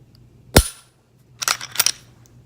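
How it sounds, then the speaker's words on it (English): A Glock pistol, a G43X or G48, is dry-fired: one sharp, close click as the trigger breaks, then a short pause and a quick cluster of lighter clicks as the slide is worked and the trigger resets. "for the trigger feel, there's the wall, creep, and then the break"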